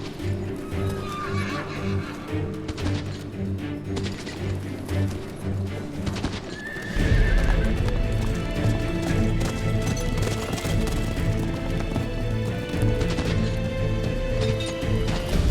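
Several horses trot with clip-clopping hooves, neighing and whinnying over the steady rhythm, loud and close, with a sudden surge of hoofbeats partway through and some crashing and birdcalls in a dramatized outdoor scene.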